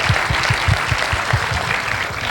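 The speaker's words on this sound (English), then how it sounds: "So a very big round of applause, guys." Steady applause from a crowd at an entrepreneurship event in Hyderabad, dense clapping that holds at an even level throughout with no talking over it.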